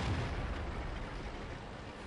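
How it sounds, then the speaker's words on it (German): Artillery fire rumbling in the tank battle game World of Tanks, a dense low boom with a sustained roar that fills the whole short stretch, loud and close without any voices. "Die Arti schießt ganz schön auch auf mich hier noch."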